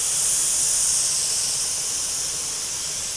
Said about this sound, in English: I've got that dry steam.